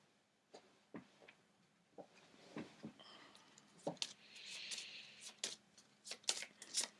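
Tarot cards being shuffled close by, soft riffling and slapping that starts in sparse taps and builds into denser, brighter bursts of card noise, with no talking.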